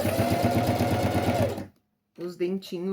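Sewing machine with its presser foot stitching fabric for a small zip pouch, a steady rapid mechanical whir that stops abruptly, followed by someone speaking nearby.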